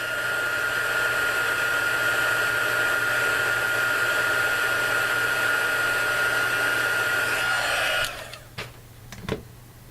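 A heat tool blows a loud, steady whirring hiss while melting embossing powder on a handmade card, then cuts off near the end, leaving a few soft clicks and handling sounds.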